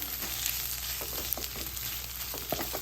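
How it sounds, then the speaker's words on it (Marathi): Finely diced potatoes hiss and sizzle in a hot pan with cumin seeds, green chilies and grated ginger. The frying is steady and close, with small pops and crackles and no voices. "एक लहान चमचा जिरं घालते हिरव्या मिरच्या घालते अर्धा चमचा किसलेलं आलं घालते बटाट्याच्या फोडी घालू ज्या बारीक चिरून घेतल्यात त्या"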